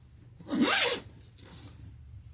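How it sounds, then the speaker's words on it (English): Top zipper closure on a pink leather tote bag, pulled once in a quick rising-and-falling zip, followed by a softer, fainter second pass, close by in a quiet room. "it has a top zipper closure"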